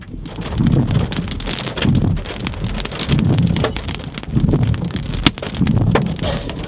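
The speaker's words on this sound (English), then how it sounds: "a nasty storm rolled through Medford, Oregon" Heavy rain pours steadily during a storm in Medford, Oregon, a dense, close hiss of drops pounding a surface with gusts of wind and a sharp crack partway through.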